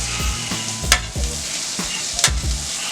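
Onions sizzling and frying on a griddle beside a steak sandwich with melting Muenster cheese, a loud steady hiss broken by repeated scraping and stirring strokes of a spatula, close by and with no talking.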